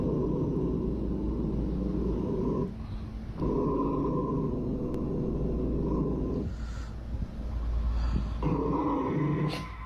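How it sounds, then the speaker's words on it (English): A dog growls in a low, continuous rumble at a Roomba, pausing briefly a couple of times before starting up again, close by with no talking. "Why is the dog growling at Grandma?"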